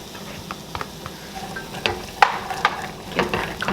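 Carrots, onion, celery and mushroom slices stirred in a pan, a soft sizzle under scattered scraping and clicking of the utensil against the pan, fairly close and with no talking.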